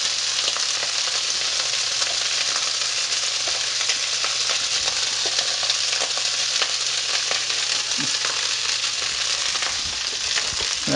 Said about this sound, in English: frying the rice off until it gets nice and hot all the way through.